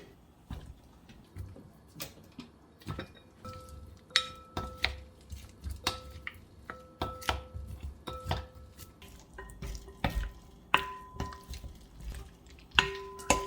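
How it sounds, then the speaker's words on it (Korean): Sliced lotus root gets tossed with vinegar and seasoning in a bowl, making a run of close, irregular wet clicks, taps and squishes that grow busier as the mixing goes on. "여기다가 연근을 넣어가지고 버무리면 됩니다"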